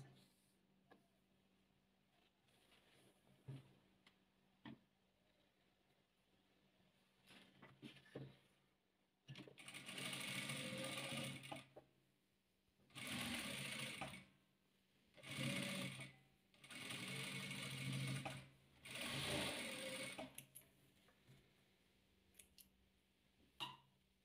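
A sewing machine stitches rows of a patchwork quilt in several loud bursts of rapid whirring, separated by quiet pauses with small clicks and fabric handling.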